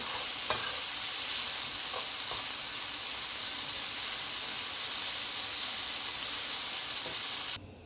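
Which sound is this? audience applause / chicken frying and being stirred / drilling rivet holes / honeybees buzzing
chicken frying and being stirred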